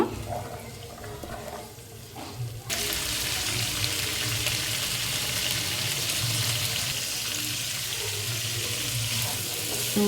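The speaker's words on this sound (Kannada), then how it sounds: "ತರಕಾರಿ ಉರಿಯೋ ತನಕ ಚೆನ್ನಾಗಿ ಈ ರೀತಿ ಫ್ರೈ ಮಾಡ್ಕೋರಿ" Vegetables frying for a Hyderabad-style veg kuruma, a steady broad sizzle that swells suddenly louder and then holds constant, close and fairly loud with no clear speech.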